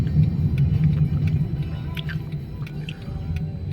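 Low, steady rumble of road traffic heard from inside a vehicle in Okinawa, Japan, with engine drone throughout and a few faint clicks and chirps.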